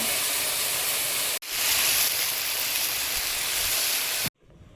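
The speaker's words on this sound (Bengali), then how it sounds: "সবজিটা ভাজা হয়েছে, জল দিয়ে দেব। গরম জল দিচ্ছি" Hot water poured into a pan of frying vegetables sets off a loud, steady steaming hiss that breaks off abruptly near the end.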